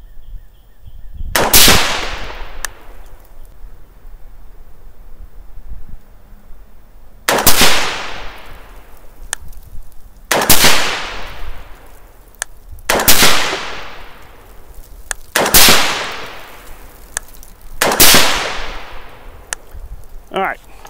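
Rifle shots fired through a Ballistic Advantage premium fluted barrel with 55-grain ammunition crack out one at a time, six loud reports spaced a few seconds apart, each followed by a short ringing decay outdoors.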